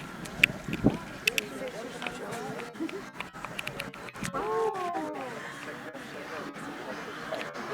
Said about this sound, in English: the noise you're hearing from the island there, that's on the egrets and the herons.